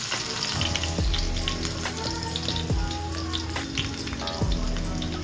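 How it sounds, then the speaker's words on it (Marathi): Garlic fries in hot oil in a pan for a Marathi dry clam (tisrya) dish, giving a steady, close sizzle with crackles and an occasional clink from the pan or a utensil. "तेलामध्ये आपण लसूण टाकून छान लालसर करूया"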